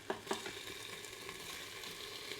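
Lamb pieces frying with darkened tomato paste in an Instant Pot, giving a steady close sizzle with a couple of soft clinks near the start, no voices.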